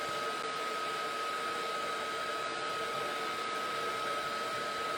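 A hair dryer blows steadily and loudly at close range to dry a mixed-media craft project, with a constant whine running through an even rush of air from start to finish.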